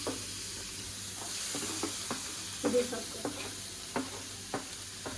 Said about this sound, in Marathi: तर आता आपण टाकूया फायनली चॉप्ड ऑनियन.